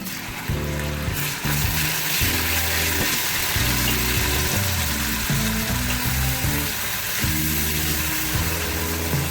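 Tomato paste fries in a pot of mutton paya, a steady sizzle running throughout while a spoon scrapes and stirs in regular strokes, close and fairly loud with no talking.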